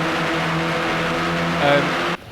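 Race cars in Project Cars 2 at Silverstone run close together in a slipstreaming battle. Their engines whine loudly and steadily, and a second car briefly howls past near the end.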